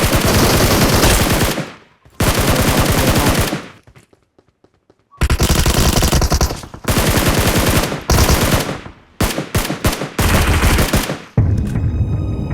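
Loud PUBG Mobile Scar-L rifle fire with the Bloodstained Nemesis skin, in long automatic bursts with brief pauses, then several shorter rapid volleys, close and dense.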